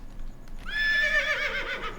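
A horse whinnies once in Farming Simulator 17, a clear rising and wavering neigh lasting over a second, loud and close against quiet background noise.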